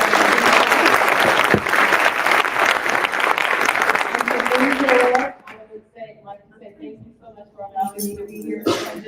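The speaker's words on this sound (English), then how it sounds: "So let's give another round of applause" An audience gives a loud, dense round of applause for panelists at a business leadership reception, lasting about five seconds before cutting off abruptly, followed by scattered talk.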